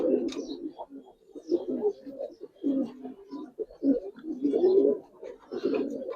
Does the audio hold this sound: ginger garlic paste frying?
no